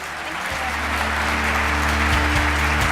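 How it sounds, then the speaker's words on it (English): Audience at a national industry meeting breaks into a dense, steady round of applause for Maureen, close and sustained, with musical tones underneath. "please extend a warm applause for Maureen"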